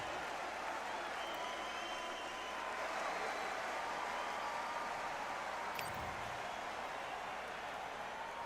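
Crowd applause after a knockout in the Undisputed boxing video game, a faint, steady wash of clapping and cheering that holds throughout with no talk.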